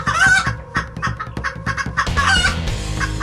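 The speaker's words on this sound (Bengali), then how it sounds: "সব মুরগিগুলো সমস্যারে ডেকে ওঠে" Cartoon chickens in a Bengali horror cartoon cluck loudly and in a panic, a rapid run of close, overlapping squawks and clucks over a steady musical background.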